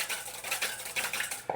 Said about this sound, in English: I'm going to whisk in a little grapeseed oil